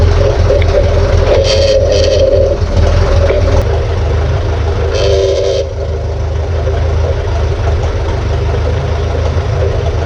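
A Ferguson tractor drives a linkage-mounted winch pulling cable in, a loud, steady low engine drone with mechanical whirring and a couple of brief higher rattling bursts over it.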